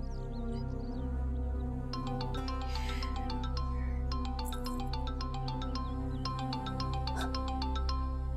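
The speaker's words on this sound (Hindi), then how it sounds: "फाइज का फोन" A phone rings with a repeating electronic melody, clear and steady over a low hum, cycling several times without any talking.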